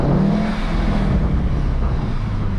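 A 2018 VW Golf R engine pulls hard under acceleration, a steady, close rumble with a rising drone inside the cabin and no talk over it.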